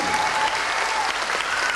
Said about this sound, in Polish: Próba generalna oklasków.